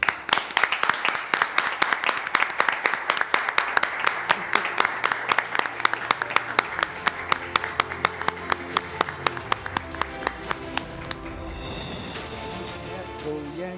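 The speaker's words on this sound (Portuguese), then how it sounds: "Dando um aplauso." An audience gives rhythmic, unified clapping in honour of pandemic frontliners, loud and sharp beats that speed up into a fast roll before breaking into scattered applause near the end.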